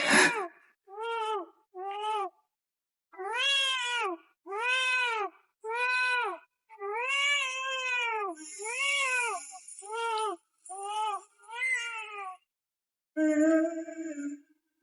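A cat meows over and over in a rapid, insistent series of a dozen or so calls, close by, some drawn out and whining, with brief pauses between them.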